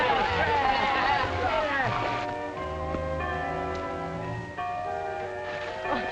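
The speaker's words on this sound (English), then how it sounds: "there's the first bell" An early school bell rings in a 1940 small-town scene, a sustained metallic ringing tone running through the clip while boys talk and shout over it.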